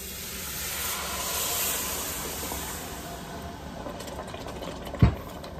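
Steam hisses steadily from a pot of gumbo roux as four cups of water are poured in, a broad soft rush that swells early then fades, ending with a sharp clank near the close.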